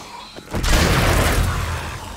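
A Titan zombie smashes through a block in 7 Days to Die: a single heavy, close crunching impact that swells into a sustained rumbling crash lasting a couple of seconds.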